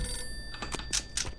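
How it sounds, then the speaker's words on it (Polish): A telephone rings in the video game Postal 2 with a few quick electronic trilling bursts, fairly close and clear over a low background hum, with no talking. "Telefon dzwoni."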